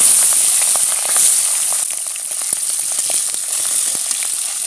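Pabda fish sizzle loudly in hot oil in a kadai: a bright, continuous frying hiss with scattered pops and crackles, close by and alone.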